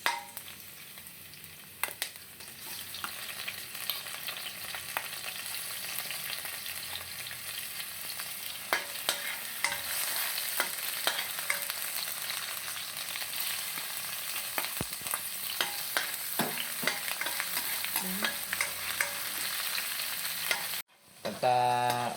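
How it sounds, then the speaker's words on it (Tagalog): Garlic, onion and tomato sautéing in oil in a stainless steel pan, a continuous close sizzle with frequent utensil scrapes and taps from stirring, ending in a brief clatter. "igisa na natin tong bawang, sibuyas at kamatis"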